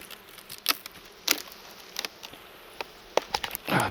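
Bees around an opened wooden hive during feeder changing, heard as scattered faint buzzes and soft crackling clicks, with a louder buzzing swell near the end.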